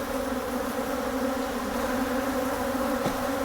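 A dense, steady drone of many bees buzzing close around an opened hive during hive splitting and queen introduction, continuous and fairly loud with no talking.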